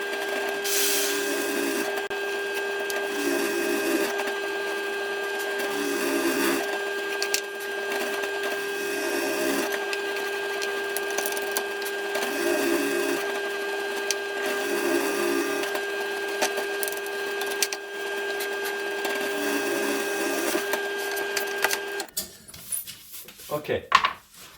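Wood is bored with a 38mm bit while fitting out a built-in wardrobe, a steady, close whining tone with rhythmic pulsing bites that runs continuously and then cuts off, leaving clattering handling noises.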